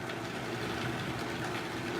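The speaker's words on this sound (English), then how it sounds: "so would you like to flip on the Vitamix?" A Vitamix blender runs steadily at close range while blending strawberry banana nice cream, giving a continuous loud whirring drone with no pauses or speech.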